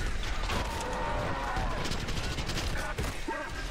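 Video game gunfire rattles in dense, continuous bursts throughout, loud and sustained, with a person talking over the shooting.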